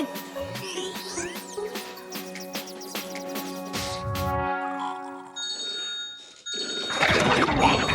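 An animated telephone rings with a bright, repeated bell-like trill that goes on for several seconds, loud and clear, followed by rustling and a burst of broadband noise near the end. No one talks during the ringing.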